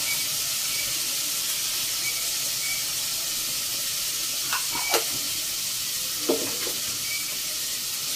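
Bottle gourd greens sizzle in a pan with a steady, even hiss, broken by a few faint stirring clinks near the middle and toward the end. Nobody speaks.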